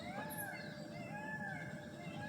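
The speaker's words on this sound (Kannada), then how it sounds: "ಕೇಳಿಸ್ಕೊತಾ ಇದ್ದೀರಾ, ಅದು ನವಿಲು ಕೂಗ್ತಾ ಇರೋದು" A peacock calls from deep in the forest during a solo camp, with faint, drawn-out wailing tones rising and falling through a steady background hush.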